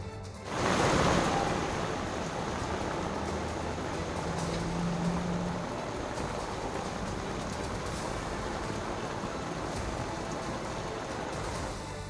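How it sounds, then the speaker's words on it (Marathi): Stormy wind and unseasonal rain in Baramati, a steady loud broadband rush of rain and gusting wind that starts abruptly and continues unbroken throughout. "बारामतीत वादळी वाऱ्यासह अवकाळी पावसाने हजेरी लावली आहे"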